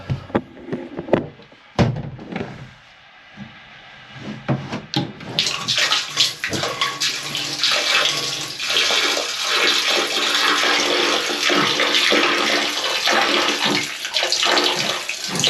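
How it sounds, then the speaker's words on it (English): An electric bilge pump on a catamaran being winterized: water gushes and splashes in a steady, loud rush after a few clunks and knocks, discharging continuously. "make sure we get all the water cleared out through the electric pumps"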